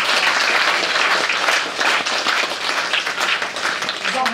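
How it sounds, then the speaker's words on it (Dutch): Audience applause fills the room at a museum gathering, a loud, dense, continuous clapping throughout, with some voices faintly mixed in. "Applaus."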